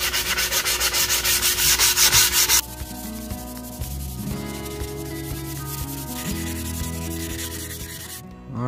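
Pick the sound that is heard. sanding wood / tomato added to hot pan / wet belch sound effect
sanding wood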